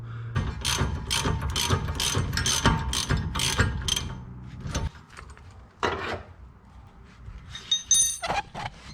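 Rapid ratcheting clicks in quick bursts as a nut is tightened on a bolt while installing a rear sway bar on a Toyota Starlet, close and fairly loud, followed by a few shorter ratchet strokes after a pause.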